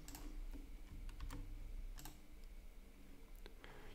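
A URL is being typed on a computer keyboard, heard as a quiet, irregular patter of key clicks over low background hiss, with no talking.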